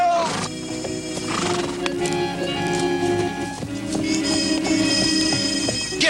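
Horses whinny and neigh over rapid clip-clopping hooves in a Western TV series scene, with shouting and busy dramatic noise mixed in throughout.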